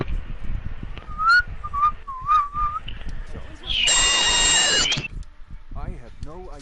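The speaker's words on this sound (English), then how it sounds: "That's the best I can fucking do when it comes to a whistle." A person tries to whistle, producing a few short, wavering, thin notes, then a loud buzzing burst follows and speech continues around it.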